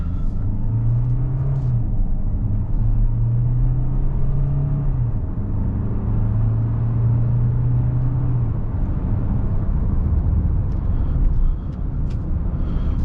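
A Hyundai Santa Fe hybrid with a 1.6 liter turbo four-cylinder accelerates in sport mode onto a freeway, its engine droning and rising in pitch in repeated surges under steady road rumble heard from inside the cabin.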